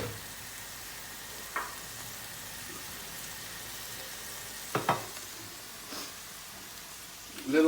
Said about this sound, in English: I'm going to turn the heat up on this, get that spinach cooking